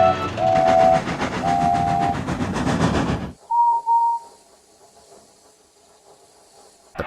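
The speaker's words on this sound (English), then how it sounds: "When they saw Henry and the Diesels pulling in" Trains pull into a big station in a children's animated story, with a loud hissing rumble and whistle tones that cut off abruptly. A faint whistle and quieter rail noise follow.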